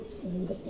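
A single pigeon gives a short, rolling coo close by, rising and falling once, with quiet room background around it.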